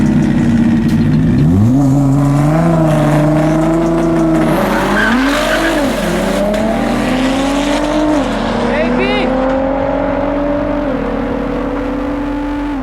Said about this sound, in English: Leslie's Subaru Wagon versus Jacques Alpha 6 R35 GTR.